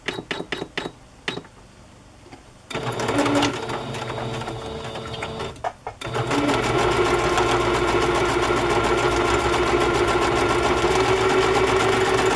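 A sewing machine runs a decorative stitch through paper strips: a few short stuttering bursts, then a sustained loud mechanical chatter of rapid stitching that continues to the end.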